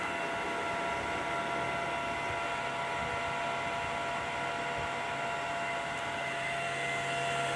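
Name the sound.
cooling fan of 1000W grid-tie inverter running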